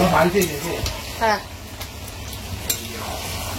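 Potatoes frying in a pan, sizzling steadily as they are stirred with a few sharp scraping clatters, while people talk over the cooking.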